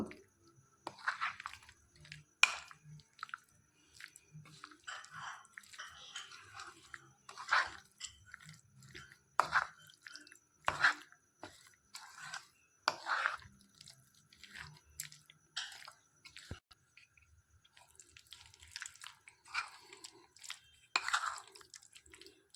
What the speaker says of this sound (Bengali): এবার একটা ডিম দিয়ে দেব এবার সব কিছু এর সঙ্গে ভালো করে মিশিয়ে নেব